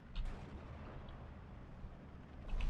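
Distant thuds of artillery fire and explosions in the WWII strategy game Steel Division 2, a low rumble under faint ambience with a muffled boom near the start and another at the end.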